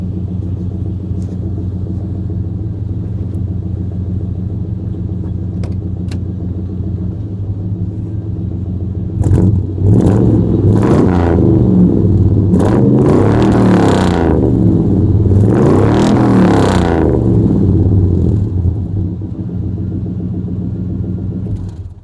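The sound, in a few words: 1990 GMC truck engine revving with dual exhaust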